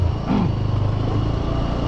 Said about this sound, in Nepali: म यो बाइक राइड हाल्दैछु कस्तो हुँदो रहेछ यसको रिभ्यू गरौँ न